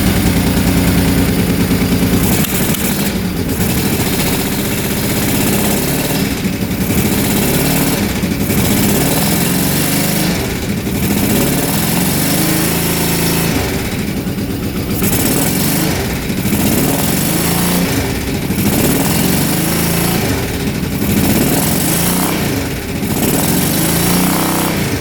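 ATV engine with a freshly adjusted carburetor and corrected timing, running loud and close for the whole stretch, a rough steady idle with periodic rises in revs and no talking.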